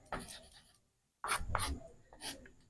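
Pen or chalk writing out an equation during a physics lesson on spherical mirrors, with scratchy stroke bursts broken by a short pause, fairly close.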